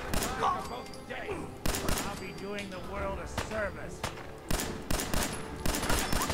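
Rapid bursts of gunfire from Fallout 4, sharp repeated pistol shots in clusters, with a voice talking underneath between volleys.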